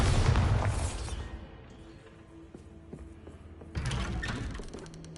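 A Bombarda spell explosion in the Hogwarts Legacy video game, a loud booming blast at the start that fades into rumbling debris and ambient game sound, followed by a second burst of noise near the end.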